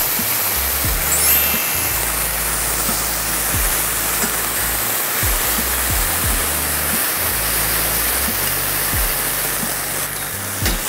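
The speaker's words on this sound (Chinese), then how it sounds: "好，炒了差不多之后，我们把水放进来。" Water poured into a pan of stir-fried meat and snacks sends up a steady, loud rushing sizzle that runs unbroken for about ten seconds, with low knocks of cookware beneath it.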